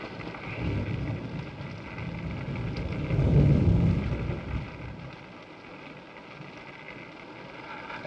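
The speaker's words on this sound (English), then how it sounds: "It's raining." Steady rain hisses in a 1941 horror film, with a low rumble of thunder swelling in the middle and then receding, all under a constant film soundtrack hiss.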